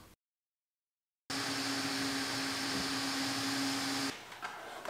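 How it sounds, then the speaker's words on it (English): Vacuum cleaner running on the carpet inside a 2015 Toyota RAV4: after a brief silence, a loud, steady whining drone with a constant low hum starts suddenly and continues, dropping slightly near the end. "I'm not cleaning it, I'm just vacuuming it."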